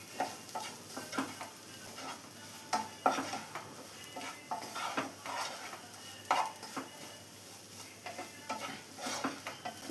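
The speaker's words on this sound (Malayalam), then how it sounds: "അതും കൂടെ ചേർത്ത് എല്ലാം കൂടെ നന്നായി ഒന്ന് മിക്സ് ചെയ്ത് കൊടുക്കാം" Grated coconut is stirred into drumstick thoran in a pan with a spoon, giving soft repeated scraping and clinking strokes in an uneven rhythm over a faint low sizzle. The sound is close but quiet, and no one speaks.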